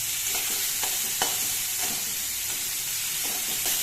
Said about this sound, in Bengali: আমার এখানে মাছগুলো মোটামুটি সাতলানো হয়ে গেছে